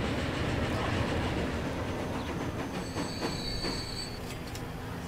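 Passenger train passing in the railway simulation game Transport Fever, a steady rumbling roll with clacking and a thin wheel squeal, heard alone.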